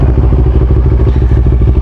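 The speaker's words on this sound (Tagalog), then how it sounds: "At subukan nga natin tong kanyang motor ngayon." Loud, close Bristol Venturi 500 motorcycle engine idling with a rapid, throbbing low rumble and rattling, steady throughout.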